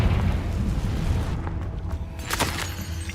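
A Confringo fire-blasting curse explodes in Hogwarts Legacy, a loud deep boom that opens at full force, rumbles and fades, then gives way to a short crackling burst near the end.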